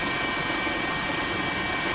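A news helicopter flies over the Sendai coast in Miyagi Prefecture during the Japan tsunami, its rotor and engine giving a constant, loud, dense roar that fills the whole stretch with no pauses or voices.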